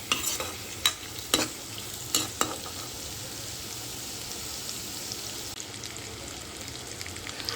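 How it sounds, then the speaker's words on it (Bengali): Fried potatoes and cauliflower are stirred into a spice mix in a pan for a Bengali fish curry, with soft steady sizzling and several sharp spoon scrapes and clinks early on, then continuous frying hiss. "আলু ও ফুলকপিও মশলার সাথে ভালোভাবে মিশিয়ে নিচ্ছি।"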